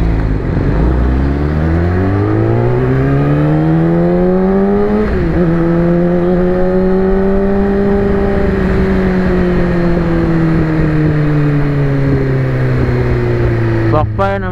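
Akrapovic-exhausted 2020 Yamaha R6 motorcycle holding a steady, loud engine drone that rises and falls in pitch, with a short burst of sharp pops near the very end.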